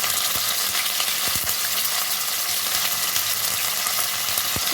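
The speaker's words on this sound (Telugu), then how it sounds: "ఆయిల్ వేడెక్కిందండి ఆనియన్స్ వేసుకున్నాను నెక్స్ట్ కరివేపాకు" Onions and curry leaves fry in hot oil in a bowl on the stove, making a loud, constant close sizzle with occasional stirring clinks and spatters.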